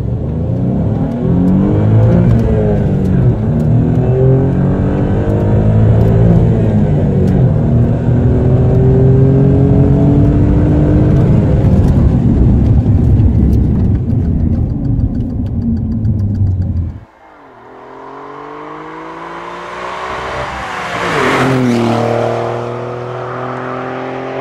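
A 510-horsepower Alfa Romeo Giulia Quadrifoglio sedan accelerates hard, its engine climbing through several loud, rising revs with gear shifts, then dropping sharply before a final roaring surge, close and without talk.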